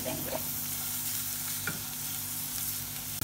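Onion, garlic, a cinnamon stick and curry leaves fry in oil for Egyptian koshari, a steady close sizzle with a low hum under it and a single stir scrape in the middle.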